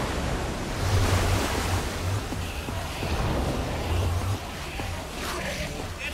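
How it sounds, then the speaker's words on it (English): Water gushes and roars in Minecraft: Story Mode, a loud, continuous rushing wash with surging swells that eases slightly near the end, alone without talk. "I don't know how much water this thing is going to kick out"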